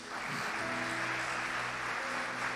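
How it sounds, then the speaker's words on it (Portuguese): A church congregation applauds together, a dense, continuous wash of clapping that holds steady at moderate volume inside the worship hall. "Vamos aplaudir ao Senhor Jesus."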